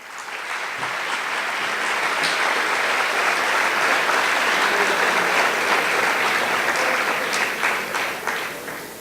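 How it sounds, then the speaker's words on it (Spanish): Sustained audience applause fills a hall at a youth forum in Guatemala, steady and dense with scattered claps, greeting a speaker from a national widows' organization. "Un fuerte aplauso,"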